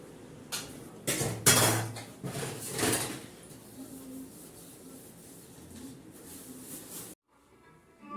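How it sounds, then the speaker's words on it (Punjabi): Dishes and pots being washed in a home kitchen, with several sharp clatters and scrapes of metal utensils in the first few seconds, then softer rubbing and rinsing noises. "ਭਾਂਡੇ ਮਾਂਜਦੇ ਹਾਂ"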